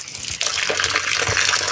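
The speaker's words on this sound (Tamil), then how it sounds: "தண்ணி வருது பாருங்க." Water gushes steadily from a pipe at a temple tank in a Jaffna island village, a close, continuous splashing flow that starts abruptly and runs on alone.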